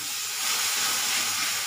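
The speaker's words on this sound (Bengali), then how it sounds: "মশলাটা কিন্তু কষানো হয়েছে, আমি দিয়ে দিতেছি টক দই।" Sour yogurt goes into hot, fried-down spice paste in a pan and sets off a loud, steady sizzling hiss that fills the whole moment, with no voices over it.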